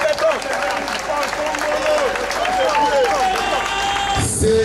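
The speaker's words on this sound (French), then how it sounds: "Applaudissons très fort pour le président de la République, Félix Tshisekedi." Crowd applause and cheering for the president at a political rally, dense clapping mixed with voices and calls throughout, loud and steady under crowd noise.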